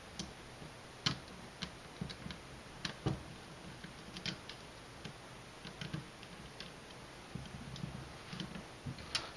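Two small screws come out of an airsoft AK's hop-up and inner barrel assembly, heard as faint, close, irregular ticks and metallic clicks over quiet room tone, with no talking.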